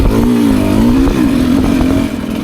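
A 2024 Beta 300 RR Race Edition two-stroke dirt bike putters slowly along a woods trail, its loud, close engine drone wavering gently in pitch with light throttle changes.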